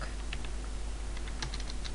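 Quiet, close keystrokes on a computer keyboard tap out a command in an uneven cluster of light clicks over a faint steady hum.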